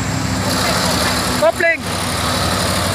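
A Volvo trailer truck engine idles with a low, steady rumble while the truck reverses, close and loud, with a brief whining, shifting sound in the middle and voices talking over it.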